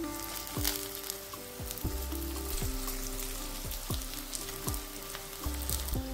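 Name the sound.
water lily fritters frying in oil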